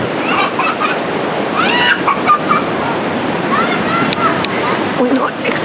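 Atlantic Ocean waves surging up the shore on a Puerto Rico beach, a continuous washing roar of surf with people's voices talking and calling over it.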